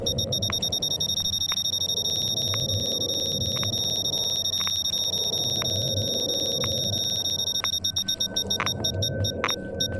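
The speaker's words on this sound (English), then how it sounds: "I guess that's the anomaly alarm rather than the artifact detector." Repeated high electronic beeping of an anomaly alarm in the S.T.A.L.K.E.R. Shadow of Chernobyl video game, a steady tone with regular pulses running continuously over low game ambience.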